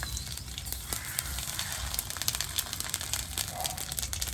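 Mustard seeds hit hot oil for a potato kuzhambu, giving a steady close sizzle scattered with sharp crackles and pops, with no voices over it.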